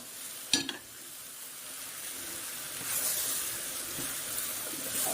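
Drumstick, brinjal and potato sautéing in a clay pot give off a soft, steady sizzle with faint stirring scrapes, plus one brief knock near the start.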